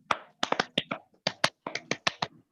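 A classroom group claps in unison on a teacher's cue, a rapid run of sharp, close handclaps in quick bursts with brief gaps, with no talking over them.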